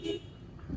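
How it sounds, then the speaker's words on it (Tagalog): A Toyota Innova's car horn gives two short toots, one at the start and one at the end, with faint background noise between them. "Okay, so busina goods."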